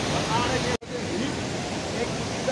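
Steady, broadband rush of the Saraswati river flowing near Mana village, a close and constant wash of water with one momentary dropout near the start.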